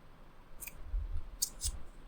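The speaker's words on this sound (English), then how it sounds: "I'm just going to take my scissors and very carefully" Scissors snip fabric for a handmade hair clip: a few sharp, close metallic cuts in quick succession in a quiet room.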